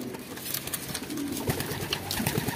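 Racing pigeons coo in a low, repeated rhythm close by, with brief wingflaps and rustling amid the loft's steady background hiss.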